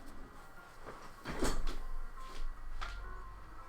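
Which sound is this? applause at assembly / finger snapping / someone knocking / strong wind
someone knocking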